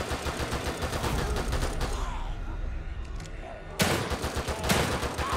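Gunshots in The Evil Within 2 during a fight against a crowd of enemies, with dense rapid shots and clattering action, a brief lull, then more loud shots.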